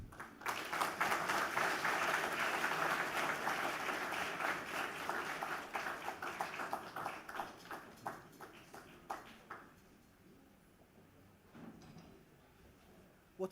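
A lecture hall audience applauds after a professor's talk on middle-income technology traps, a dense, steady clapping that thins out into scattered claps and fades near the end.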